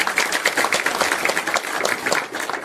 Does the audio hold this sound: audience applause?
yes